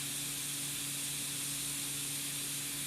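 An airless paint sprayer spraying paint steadily after a fleck of dried paint was cleared from it, a continuous even hiss with a low mechanical hum beneath, close and alone without talk.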